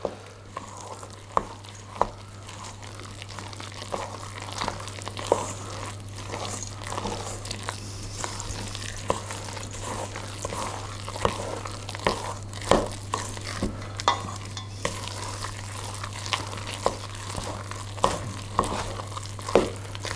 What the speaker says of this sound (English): stir the mixture just until everything is combined